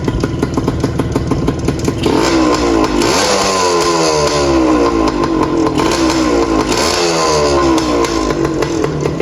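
A 1981 Suzuki TS185 two-stroke motorcycle engine putters and crackles steadily at a loud, close idle, with a couple of brief swells in revs.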